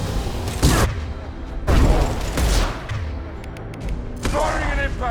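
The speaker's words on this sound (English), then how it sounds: "Firing an impact shot!" A burst of impact-shot weapon fire in Mass Effect 2, loud and repeated as several heavy blasts spaced over the stretch, with background game noise between them.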